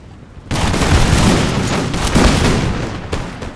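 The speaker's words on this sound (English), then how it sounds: "so they just stop and start shooting" A musket volley from Minutemen in a video game erupts at point-blank range, a loud crashing roar of many shots merging into one rolling burst, followed by a second swell and scattered fading reports.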